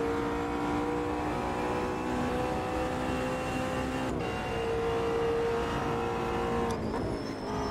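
A McLaren race car in the Automobilista 2 sim at the Spielberg track, its engine holding a steady, loud drone with brief shifts in pitch around gear changes, running continuously with no talk.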